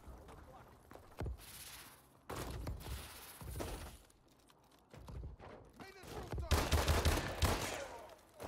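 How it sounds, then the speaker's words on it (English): M1 Irons rifle gunfire in a video game, separate sharp shots spaced irregularly with crashing impacts and bursts of noise, under intermittent talk. "You hear the same exact gun, and I won."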